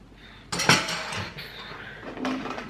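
A shaker and dishes set down in a sink, a sharp clatter of pots and cutlery followed by lighter clinks and a second knock near the end.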